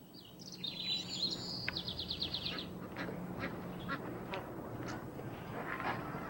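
Ducks quack at a carp pond in southern China, a burst of rapid quacking calls followed by scattered honks and calls over a constant outdoor hiss and background noise.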